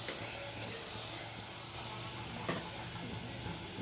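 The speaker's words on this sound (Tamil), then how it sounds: "இப்போ கறியை போட்டுருவோம். பீஃபையும் போட்டு அதில் போட்டு நல்லா ஒரு கிண்டிக்கணும்." Beef pieces go into well-fried masala for a beef gravy and are stirred, producing a steady sizzle and hiss with an occasional clatter of the spoon, close and moderately loud.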